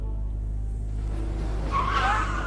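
A car skids and its tires squeal over a low engine rumble, with the screech building in the final second as it brakes hard to a sudden stop.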